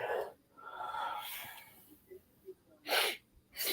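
A sneeze bursts out near a microphone during a toy-collector podcast about San Diego Comic Con, followed by a wheezy breath and short snorts, with no words spoken.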